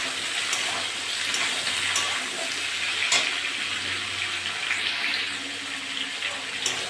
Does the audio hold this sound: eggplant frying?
yes